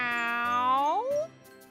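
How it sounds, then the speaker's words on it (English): A cat gives a single clear meow, a drawn-out rising-then-falling cry heard close and alone, followed by quiet. "Yes, that is a cat."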